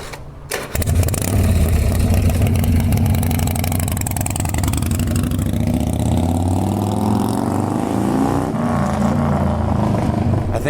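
A display chopper motorcycle engine fires up and runs loud and close, a steady throbbing rumble that rises and settles, with no talk over it.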